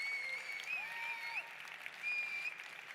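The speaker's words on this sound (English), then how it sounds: "Clap your hands to those around you" Audience at an awards ceremony clapping hands steadily, a soft, continuous patter of many hands heard from a distance with a faint tone drifting above.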